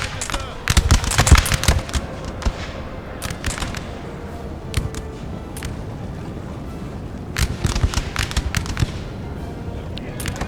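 Foot guards fire musket volleys in the Napoleon: Total War video game, with rapid crackling bursts of overlapping gunshots coming in irregular clusters over a battlefield din. Someone talks over the firing.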